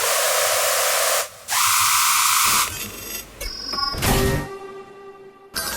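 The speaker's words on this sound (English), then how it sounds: "how to make one of my crazy cool screeches" Harsh, noisy Sylenth1 synthesizer screeches shift abruptly in pitch and texture, with hissing bursts and brief pauses between phrases.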